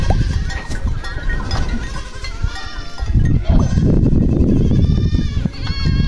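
A large herd of Boer-cross goats on a farm bleats close by, many overlapping calls rising and falling amid rustling and shuffling movement.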